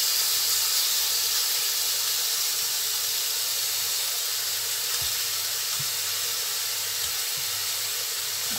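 Chicken pieces hitting a hot pan set off a steady, loud sizzle and hiss that carries on unbroken, with a few faint knocks of the pan underneath.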